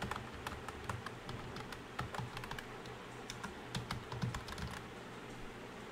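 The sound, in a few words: typing on a computer keyboard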